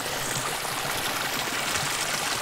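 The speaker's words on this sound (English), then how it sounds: "if I record from up here, or like from here, it's just this tiny stream" A tiny forest stream trickles and burbles in a steady, close, continuous wash of water with no voices.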